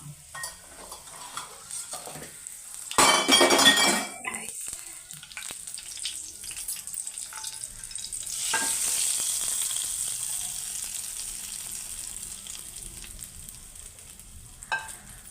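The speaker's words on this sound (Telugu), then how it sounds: "పోపు అయితే ఎగిపోయింది మనం పోపు పెట్టేసుకుందాం" Tempering for amla dal fries in a pan, with a loud sudden crackle early on, then a softer sustained sizzle and stirring that fades, with no clear talk.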